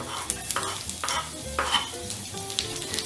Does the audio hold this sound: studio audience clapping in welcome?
no